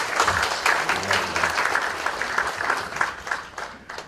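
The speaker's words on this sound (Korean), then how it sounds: "박수 보내주십시오." An audience at a keynote lecture on cooperation by an economic commentator breaks into steady, dense applause, many hands clapping together in a continuous wash that holds at even strength throughout.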